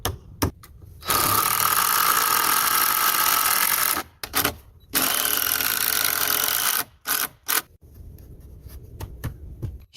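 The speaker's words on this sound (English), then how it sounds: "He is using a screw drill machine to firmly fit the wooden parts into the door frame" Screw drill driving fasteners to fit wooden parts into a door frame while building an off-grid cabin in the wilderness: several loud, sustained whirring bursts, each a few seconds long, separated by short pauses and clicks.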